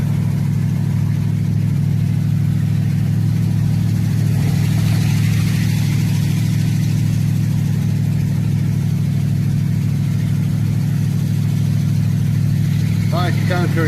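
A car engine hums steadily as the vehicle drives along green country mountain roads at light throttle, a constant low drone with road rumble that holds throughout, and someone talks over it.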